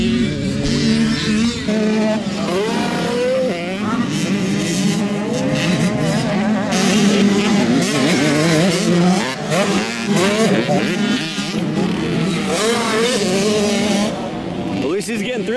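Motocross dirt bike ridden through a rut, engine revving and wavering up and down in pitch as the rider works the throttle, loud and close with a person speaking over it.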